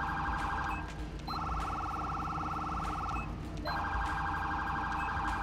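A GTA 5 police car siren cycles through its electronic pattern, a loud continuous wail with steady warbling tones broken by a brief pause before resuming.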